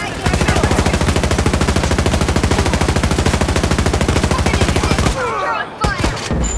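A very fast-firing shotgun in a first-person shooter game unloads a dense, unbroken string of loud shots for about five seconds, then stops, leaving a few faint mechanical clicks.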